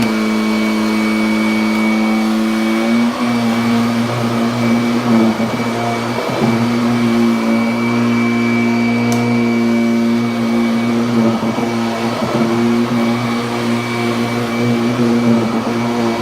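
A 2006 Kirby Ultimate G Diamond Edition upright vacuum cleaner runs steadily with a loud, continuous motor hum whose pitch shifts briefly around three seconds in, with no voices over it.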